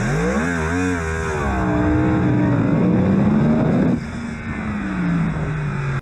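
Yamaha R1 four-stroke sport motorcycle engine revving loudly up through the gears with a rising, continuous whine, then easing briefly near the end before holding a steady drone, heard alone without talk.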